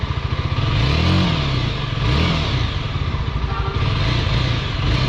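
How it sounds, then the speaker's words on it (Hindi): A Yezdi Scrambler motorcycle on a hill road sputters and misfires as its petrol runs out, its uneven engine chugging loud and near with irregular revs and stumbles. "देखो पूरा मिस करने लगा है क्योंकि फ्यूल ही नहीं है अभी इस बाइक में"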